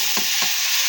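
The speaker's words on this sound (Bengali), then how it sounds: "ভালো করে মশলা কষিয়ে নিলাম।" Spice paste fries in hot oil with cinnamon, cardamom and two or three dried chilies, a steady broad sizzle broken by two soft stirring scrapes, close and fairly loud, no voices.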